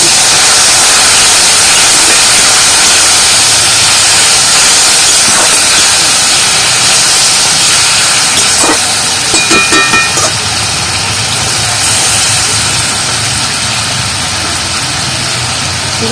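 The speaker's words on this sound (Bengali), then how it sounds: "মশলাটা ভালো করে কষিয়ে নেবো আর মশলার মধ্যে একটু জল দিই" Spice paste for a palm-seed-kernel dish frying loudly in a pan as a little water is added, giving a steady, near, close-up sizzle and hiss with a burst of bubbling crackle partway through.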